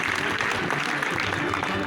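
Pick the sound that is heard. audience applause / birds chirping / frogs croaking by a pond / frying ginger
audience applause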